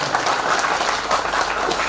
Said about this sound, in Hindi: तो नीलासन इंजीनियरिंग के लिए बहुत जोरदार तालियां होनी चाहिए।